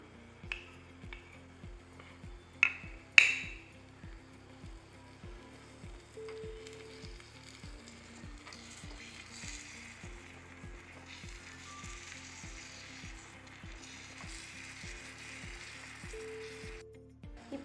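Tomatoes frying in a tiny miniature pan make a soft, steady sizzle, with a few sharp clicks near the start and a faint rhythmic ticking underneath throughout.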